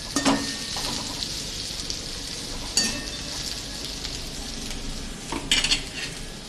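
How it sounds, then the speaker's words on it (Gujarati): Carrot chips and vegetables are stir-fried for spring roll filling, with a steady sizzle under repeated scraping stirs and a few sharp utensil scrapes against the pan, close and fairly loud, with no talking. "બધું બરાબર મિક્સિંગ કરતું જવાનું."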